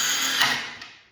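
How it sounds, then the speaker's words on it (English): A power drill drives a screw through a sign face into a green channel stake, giving a short high whir that winds down and fades. "We use a drill."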